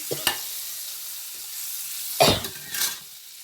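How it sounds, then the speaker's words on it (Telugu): Salted butter melting in a frying pan, a soft sizzle broken by a few sharp scraping and stirring knocks, close and fairly quiet. "ప్యాన్ తీసుకొని ఇది బటర్, సాల్టెడ్ బటర్ ఉంటుంది కదా, బటరే వేసుకోవాలి."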